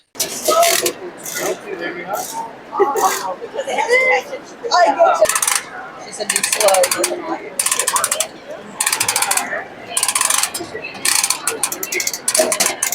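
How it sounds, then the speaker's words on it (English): A Disney pin vending machine working through its cycle: repeated ratcheting, clicking gear and pulley sounds and small metallic drops, loud and close, with people talking and reacting over it. "we're going to go and do the vending machine"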